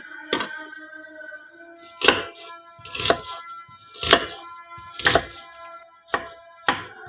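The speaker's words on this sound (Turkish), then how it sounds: "soğanlarımızın hepsini güzelce doğrayacağız ve hazır edeceğiz" Knife chops through onions on a cutting board, seven sharp close strikes spaced roughly a second apart, with no talking.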